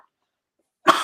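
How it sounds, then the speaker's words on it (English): A single sharp cough bursts out near the mic after a second of near silence and cuts off abruptly. "Come on, bro, don't start with this cough"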